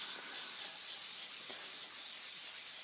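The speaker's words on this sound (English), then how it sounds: "put a bit of effort into rubbing this in, because you want the waxes and oils that are in the Dingotone to really penetrate into the timber" A cloth rubs Dingotone wax and oil finish firmly into timber, making a steady, even scrubbing hiss that runs without a break, close and fairly quiet with no talk.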